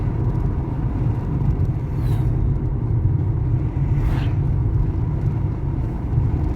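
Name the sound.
cars overtaking on Kiambu Road, Nairobi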